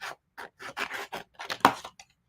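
Scissors trim transfer tape for a round wood sign craft project, making a series of short, crisp snips in quick succession, close and clear, with no voices over them.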